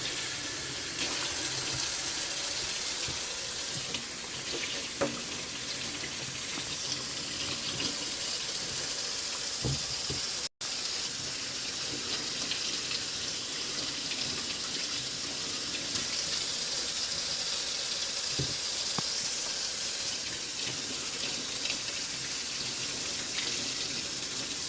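Cold tap water runs steadily over dry-brined salmon in a sink, a constant close splashing hiss with small shifts as the fish is rinsed, and no voices.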